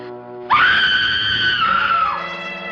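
A person's shrill, sustained scream in a 1942 mystery film, rising sharply then holding for over a second and a half before trailing off, loud and close.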